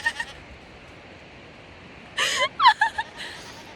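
Goats bleat at a waterfall outing, giving a cluster of several short, wavering, nasal calls close by after a quiet stretch of faint background.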